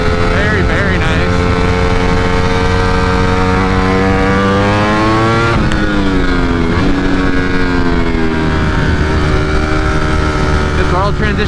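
A 2020 Ducati Streetfighter V4 with a flash-tuned ECU holds high RPM under throttle. The loud engine tone dips briefly, then climbs again and stays steady and close throughout.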